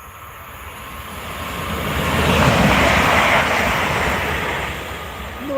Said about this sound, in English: I can hear a train. We've got one behind us.